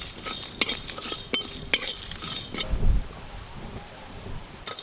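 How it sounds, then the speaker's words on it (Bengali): Whole cumin, fennel, coriander, green cardamom, cinnamon and dried red chillies dry-roasting in an empty wok, with a few sharp scraping clinks of a spatula against the metal, then quieter rustling and stirring. "শুকনো কড়াই একসঙ্গে খুব ভালো করে ভেজে নেব।"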